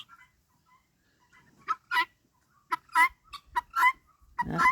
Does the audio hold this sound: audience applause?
no